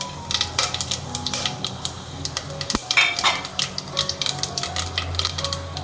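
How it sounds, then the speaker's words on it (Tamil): Whole spices (cinnamon, bay leaf, cloves, fennel seeds and a cardamom pod) sizzle in hot oil as a tempering for a Tamil chicken gravy, with a steady crackle, stirring scrapes and a sharp metallic clink partway through. "இதில் இப்போ தாளிக்கிறதுக்கு தேவையான ஐட்டம்லாம் போட்டுருவோம்."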